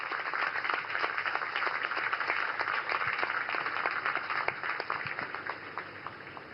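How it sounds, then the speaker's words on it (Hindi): A large audience at a naval ceremony applauds warmly to welcome the Prime Minister, steady dense clapping that holds at an even level and fades slightly at the end. "जोरदार तालियों के साथ उनका स्वागत करें।"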